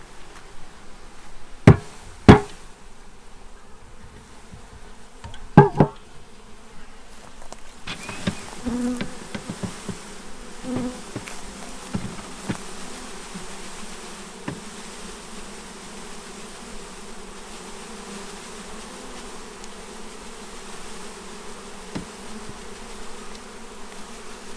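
Package bees buzzing steadily as they are released into a new hive, a faint continuous hum with a few sharp taps and knocks against the cage and frames early on.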